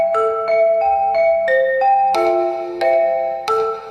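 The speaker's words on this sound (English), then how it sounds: "This is the sound of the music the birds are making by sitting on the wires." A short melody of distinct plucked or struck notes played in steady rhythm, the musical phrase mapped from birds perched on wires, bright and upfront with a faint low hum beneath and no voices.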